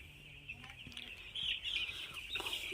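Chickens raised on finely chopped straw cluck and call close by, with a higher chirping tone running through much of the short stretch and a brief louder burst midway.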